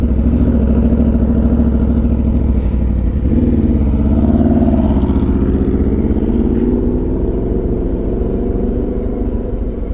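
A Harley-Davidson Lowrider S motorcycle engine rumbles loudly and steadily at close range while riding along a road in Pacific Beach, California, its deep exhaust note shifting slightly in pitch as the throttle changes.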